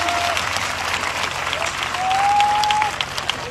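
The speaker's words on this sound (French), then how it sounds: "Acclamez Jésus" A church congregation claps together in steady applause while a voice speaks briefly over it, the clapping swelling slightly toward the end of the short burst.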